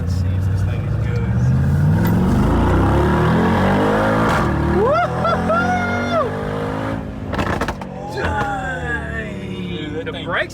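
A wrecked-then-rebuilt 2022 Mercedes G63 G-Wagon accelerates with its exhaust partly open, the engine roaring loud and close as its pitch climbs through several rising sweeps, briefly dropping between gears before pulling up again.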